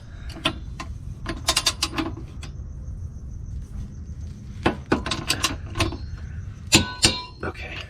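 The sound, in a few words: torque wrench tightening bolt on COBB rear motor mount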